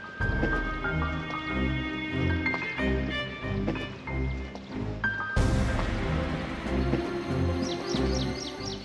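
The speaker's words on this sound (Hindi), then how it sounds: "यहाँ पर पानी का शोर काफ़ी ज़्यादा है" Water flows and gurgles continuously with splashing and dripping at Chetak Darra, fairly close, with a wet squelching rhythm and faint bird chirps near the end.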